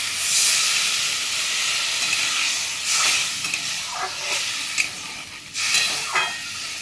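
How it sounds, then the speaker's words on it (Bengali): Water hits a pan of sizzling fried masala with potatoes and pointed gourd for a rohu fish curry, giving a loud, steady hiss and steamy sputter with bursts of stirring. "এবার আমি জল দিয়ে দিচ্ছি, দেখো মশলা কষানো হয়ে গেছে, তেল ছেড়ে দিয়েছে।"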